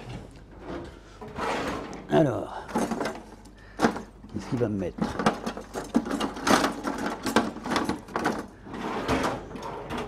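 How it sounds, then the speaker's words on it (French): Kitchen cupboards and drawers are rummaged through in search of a spoon, with repeated clattering, sliding and knocking of doors and utensils, close and busy, while someone speaks French briefly. "je fouille dans les placards"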